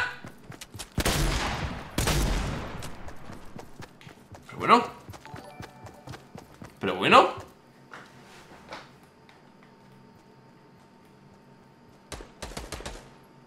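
Fortnite gunfire in a 50 vs 50 Battle Royale match: a few sharp, loud shots early on, then scattered quieter pops and clatter with gaps between them, and a short burst near the end.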